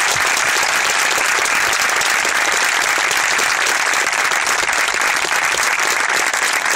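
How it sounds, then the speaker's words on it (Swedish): A crowd at a memorial sports match breaks into loud, sustained, spontaneous applause, dense unbroken clapping filling the whole stretch. "vi tar en spontan applåd för Roger Persson"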